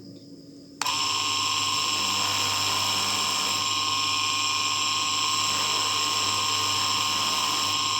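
A Mokume Gane ring is sanded with 500-grit sandpaper on a power tool, which starts abruptly after a quiet moment and runs as a steady, loud, whining hum with a strong tonal drone until the end.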